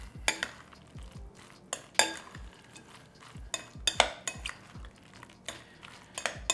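A utensil stirs dressing into a cauliflower macaroni salad in a bowl, giving irregular clinks and scrapes with soft, wet mixing between them, close by and with no one speaking.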